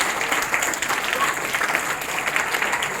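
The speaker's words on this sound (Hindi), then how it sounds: "इसीलिए लायंस क्लब मधेपुरा के लिए एक बार जोरदार ताली।" A Lions Club Madhepura audience at a childhood awareness programme breaks into steady, dense applause that holds at an even level throughout.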